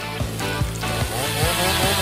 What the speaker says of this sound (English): I still have my favorite chainsaw. Now we will cut all the layers of pizza into small pieces.